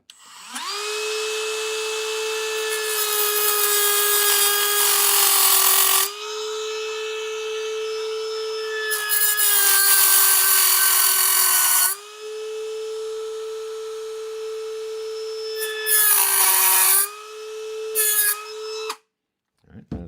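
A Dremel rotary tool whines at a high, steady pitch while cutting, loud and close, running in long bursts with brief pauses and shifts in load between them.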